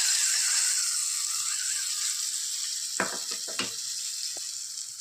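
Chilies frying in oil with asafoetida, fenugreek and cumin for a Kerala curd chilli curry, a steady bright sizzle close up, joined near the end by a few sharp clinks and scraping stirs.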